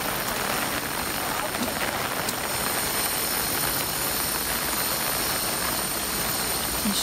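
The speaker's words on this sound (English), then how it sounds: "Even though it's raining so hard." Steady, dense hiss of heavy rain pouring down, constant and enveloping, with a faint low background rumble.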